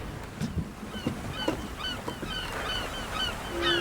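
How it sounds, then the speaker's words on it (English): Seagulls call out over the open Atlantic Ocean in short, repeated honking cries that rise above a steady wash of wind and sea noise. "Strange that there are seagulls in the middle of the Atlantic Ocean."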